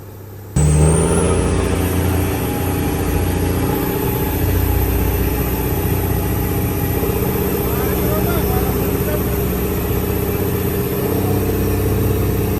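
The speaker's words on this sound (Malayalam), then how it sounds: "ആ ത്രോട്ടിൽ ഇങ്ങനെ കൊടുക്കണ സൗണ്ട് കേട്ടാൽ തന്നെ അറിയാം നല്ലോണം തള്ളി വെച്ചാണ് പോണത്" A fishing boat's engine on a purse-seine trip runs at full throttle: a loud, steady, close droning roar that starts abruptly and holds without a break.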